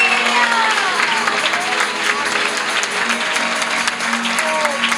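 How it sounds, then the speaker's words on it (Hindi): A church congregation at a prayer service applauds loudly and steadily throughout, a dense wash of clapping with a few cheers mixed in. "उन नहीं बुलाने वाले परिवारों के लिए भी जोरदार तालियां बजाएंगे।"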